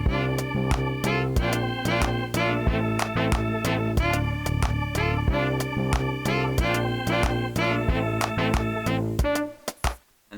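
Orba synthesizer playing a saved looped song, a busy, rhythmic electronic pattern of plucked tones and beats running steadily before cutting off at the end.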